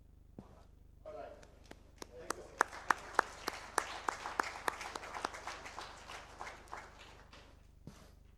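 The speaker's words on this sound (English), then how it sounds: "big round of applause to Mr. Shankar, convention chairman, for presenting a great convention today" Scattered hand claps at an annual convention's closing session build from a few sharp claps into a fuller patter, then thin out and fade, fairly quiet and distant, with low voices underneath.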